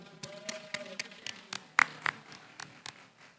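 Scattered hand claps at an awards gala sound near and fairly quiet, irregular and sparse, with a couple of sharper louder claps in the middle before they fade out.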